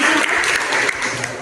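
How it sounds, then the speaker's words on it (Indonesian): Students in a classroom clap together in a steady, dense burst of applause that stays fairly loud and even for its short length, with no talking over it. "Tepuk tangan dulu untuk dia."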